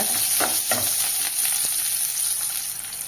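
Small chopped shallots sauté in a hot pan, a continuous close sizzle broken by a few soft stirring scrapes early on.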